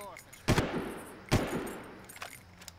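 Two sharp gunshots ring out about a second apart in the video game Far Cry, each with a short echoing tail, followed by faint rapid pops in the distance.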